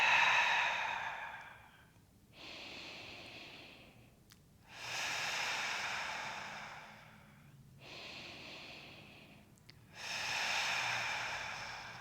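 Slow, deliberate breathing during a core exercise: three long audible exhales alternating with quieter inhales, close and alone without talking.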